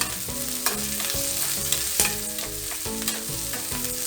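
Onions sautéing in a pan for Kerala onion chutney (ulli chammanthi), a steady close sizzle broken by repeated rhythmic scrapes and stirs of a spoon against the pan, with no voices.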